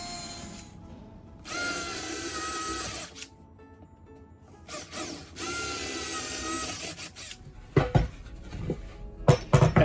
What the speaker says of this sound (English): With the 6mm drill, I now drill the marked holes all the way through the bulkhead.